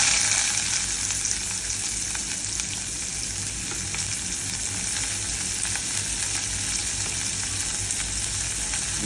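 Onions sizzle and fry steadily in hot oil with cumin and asafoetida for a Bengali okra dish, a continuous close crackling hiss that runs evenly throughout with no voices.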